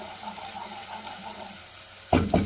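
Onions sizzling steadily in a pan as ground ginger and garlic paste is added, a continuous close frying hiss that ends in two louder bursts of sizzle and stirring.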